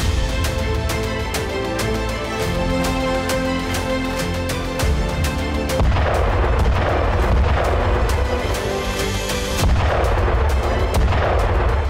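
An Indian Army self-propelled howitzer fires again and again in quick, sharp, powerful blasts over a constant rumble, the booms loud and close.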